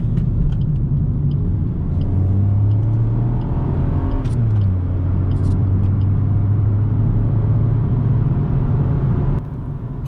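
A car accelerating hard with the accelerator pedal pushed fully down, a loud close engine rumble that rises in pitch, dips briefly as the gear changes, then climbs steadily again.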